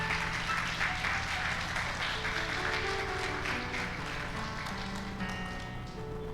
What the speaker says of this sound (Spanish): ¿Puede aplaudir la palabra del Señor?